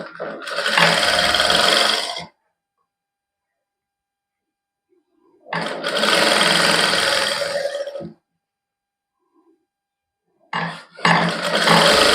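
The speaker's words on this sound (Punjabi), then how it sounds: "ਇਸ ਤਰ੍ਹਾਂ ਕੱਚੀ ਸਿਲਾਈ ਲਾ ਲਓ ਇੱਕ ਵਾਰੀ" A sewing machine runs a loose basting stitch along an embroidered kameez hem, whirring loudly in three close bursts separated by stretches of silence.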